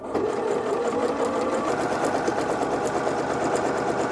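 A sewing machine running steadily as it stitches fabric for a small toiletry bag, a fast continuous mechanical whirring and rattling chatter at close range, even in level from start to finish with no talking.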